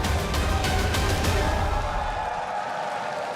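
Esports arena crowd at a League of Legends regional qualifier match, a dense, loud roar of cheering and clapping that stays steady throughout, with no voices standing out.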